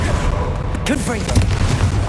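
A deep blasting-spell explosion from Confringo in the wizarding game Hogwarts Legacy, fired during a fight near a troll: a heavy low boom rumbling throughout, with a voice speaking over it.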